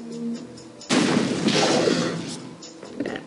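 A gunshot in the video game Odium (Gorky 17) lands as a sudden loud blast followed by a long booming rumble that decays over a few seconds, with faint game sounds before it.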